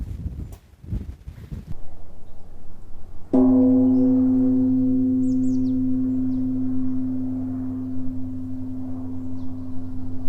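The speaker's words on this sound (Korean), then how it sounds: "갈대잎 서걱거리는 소리를 들으면서 종을 한번 쳐보겠습니다" A temple bell is struck once by a riverside among reeds, a deep ringing tone that blooms loudly and then hums on, slowly fading over many seconds, after some earlier rustling and soft knocks.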